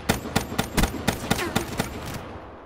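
Rapid gunfire from a weapon in Call of Duty Black Ops III, nine or so loud, evenly spaced shots in a quick burst that then stops, with no talking.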